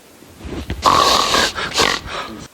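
A dramatic reader's voice imitates a prodigiously loud, rough snore, two long rasping, snorting breaths in close succession lasting a couple of seconds.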